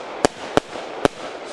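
A Sternenmeer Minerva firework cake fires low shots, giving three sharp, loud launch bangs at uneven intervals over a faint crackling background, with no voices.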